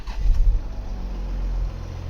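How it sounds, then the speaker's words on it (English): A 2013 Porsche Panamera engine turns over and fires, settling into a steady low rumble that holds through the moment, close and fairly loud with no talking. "So let's start the vehicle with all the keys one by one."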